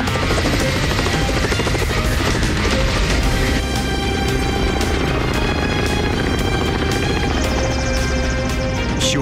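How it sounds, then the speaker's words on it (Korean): Loud, continuous rotor throb of a firefighting helicopter carrying 3,000 litres of water, passing overhead near a forest fire and releasing its spray, a steady roar filling the scene without speech. "시원한 물줄기를 뿜으며 헬기가 상공을 가릅니다"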